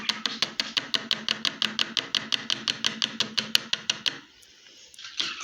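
A spoon stirring vegetables and tomato paste in a pan: rapid, evenly spaced scraping taps against the pan for about four seconds, then near quiet before a faint resumption.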